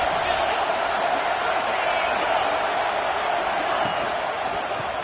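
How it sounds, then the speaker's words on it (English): A large stadium crowd at an Alabama vs Wake Forest football game roars on third down in a continuous, dense wash of noise, loud and sustained throughout, with no pauses. "The Tide crowd roaring noise down on the Saban field on 3rd down."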